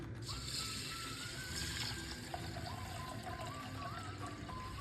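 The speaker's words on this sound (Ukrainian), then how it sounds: "В Каструльку викладаємо рис, заливаємо водою" Water poured over rice in a saucepan, a steady broadband splashing rush lasting the whole few seconds at moderate level, with no talk.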